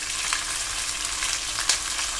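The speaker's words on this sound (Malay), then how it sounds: "Dan after that kita gaulkan ataupun stir bersama." Loud, close sizzling as garlic and oyster sauce are stir-fried in a hot pan, a dense crackling hiss with a brief scrape of stirring near the end.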